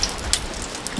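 Rain falls steadily on a campsite in Alaska, a dense, even patter with a few brighter drop hits, continuous and fairly close for the whole second.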